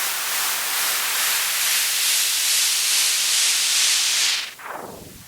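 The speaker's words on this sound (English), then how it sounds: "By automating all the filters, the drive and destroy parameters over 8 bars, the output over 16 bars" A loud, harsh distorted noise riser from a distortion plugin swells and sweeps steadily, then cuts off abruptly near the end, leaving a fading, falling whoosh.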